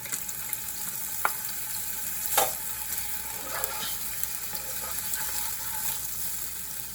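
Ginger sautéing in a pan over a high flame gives a steady, fairly quiet sizzle, with a few brief scrapes and clinks as it is stirred nearby.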